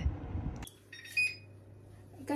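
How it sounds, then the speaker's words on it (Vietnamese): A kitchen oven signals that a steamed Vietnamese honeycomb cake (bánh bò) is done with a short electronic beep, a brief tone after a louder low thump, with a second beep at the end, against a quiet room hum. "cái lò nó kêu bánh chín rồi các bạn ơi"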